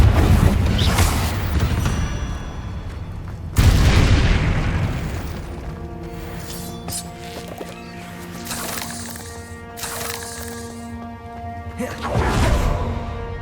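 The Confringo explosion spell in the video game Hogwarts Legacy lets off several booming blasts with whooshing bursts, loud and close, mixed with ringing musical tones and game sound effects between the hits.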